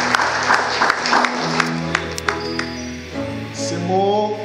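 Congregation clapping in an evangelical church during a consecration ceremony for ministers, steady applause mixed with sustained organ or keyboard chords, moderately loud and continuous for a few seconds.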